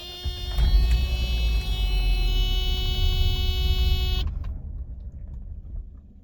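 A Mercedes W124 starting cold on a snowy day gives a steady loud engine rumble with a high whine for about four seconds, then cuts out abruptly as it stalls and fades away.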